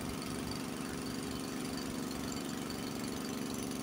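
A Honda snowblower engine runs under load with a steady, slightly labouring hum, fairly faint and continuous for a few seconds, with no talk.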